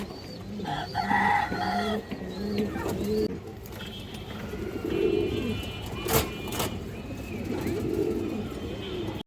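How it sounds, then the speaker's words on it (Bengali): Pigeons, including a black-necked hen of a Kajla breed, coo in low repeated bursts, with chicken-like calls and other birds around them in a busy loft; no speech is heard. "কালো গলা মাদি কবুতর মাশাআল্লাহ"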